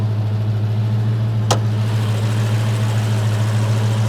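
A supercharged 707-horsepower Hemi V8 idles close by with a loud, steady low rumble, broken only by one brief sharp click partway through.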